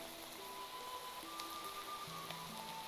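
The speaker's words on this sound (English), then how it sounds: "Let's get out of this rain." Steady rain in the video game Minecraft hisses as a constant wash of noise, with a few soft tonal notes drifting over it and no talking.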